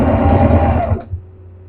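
Household sewing machine running steadily as it stitches through fabric, a loud close whirring motor hum that stops abruptly about one second in, leaving quiet room noise.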